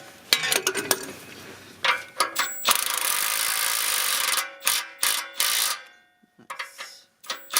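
A ratchet clicks in quick bursts while tightening an exhaust manifold bolt on a 2002 Honda Civic, close and crisp, with a pause and then a few shorter clicking strokes.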